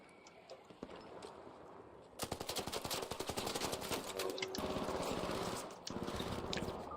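Turret in ARC Raiders fires a sustained rapid stream of evenly spaced shots. The fire starts suddenly after a few seconds of quieter ambience and carries on loud and mechanical to the end.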